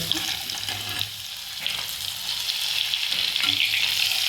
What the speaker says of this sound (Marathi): लसूण टाकून आपल्याला थोडंसं परतून घ्यायचं आहे.